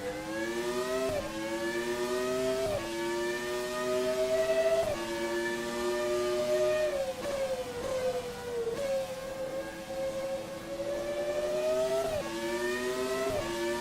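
A Williams FW16 Formula One car engine in a racing video game revs high and steadily, climbing through each gear with brief dips at the shifts, loud and continuous without speech.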